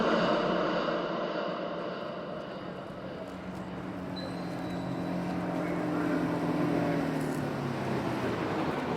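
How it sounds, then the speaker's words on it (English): A large bus arrives in an audio story, a steady broad engine rumble and drone that swells slightly toward the end, heard alone without voices. "At last! The bus is here."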